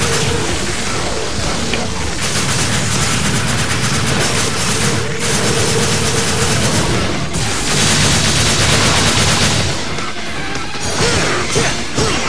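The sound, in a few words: gunfire in Devil May Cry 4 video game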